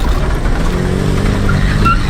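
A small Subaru engine runs floored in third gear as the car climbs a rocky hill in Moab, a loud, strained, steady drone with rising pitch and no talk.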